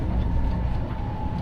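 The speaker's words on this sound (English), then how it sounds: "now the tram I'm riding is making the very sound" A Tokyo Sakura Tram rumbles along steadily with a low mechanical drone and a faint sustained whine riding above it.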